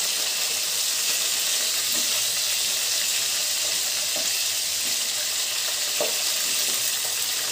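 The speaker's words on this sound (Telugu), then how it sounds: "ఆయిల్ వేడయ్యాక మనం ముందుగా క్లీన్ చేసి పెట్టుకున్న ఈ పీతల్ని ఆయిల్ లో ఫ్రై చేసుకోవాలి।" Crabs frying in hot oil for a crab curry, a steady dense sizzle and crackle running throughout at close range, with occasional sharper pops and light stirring, no voices.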